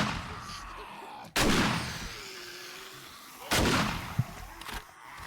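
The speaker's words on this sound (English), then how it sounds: "Shotgun blast woke up everybody" Two heavy shotgun blasts in the survival video game 7 Days to Die, each a loud booming crack with a long echoing tail, spaced about two seconds apart, with a smaller thud afterward.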